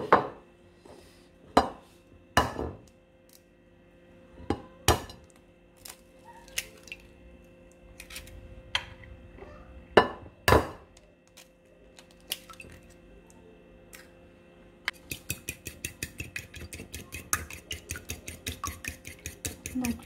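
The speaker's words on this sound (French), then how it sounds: "les 2 œufs, on les bat en omelette" Two eggs being beaten with a fork in a bowl, first scattered sharp clinks and taps, then a quick steady run of rhythmic whisking clicks near the end, close and alone.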